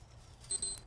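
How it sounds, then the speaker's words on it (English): A household alarm clock goes off with two short high-pitched electronic beeps, quiet and somewhat distant over a low background hum. "That's my alarm going off saying it's time to finish work"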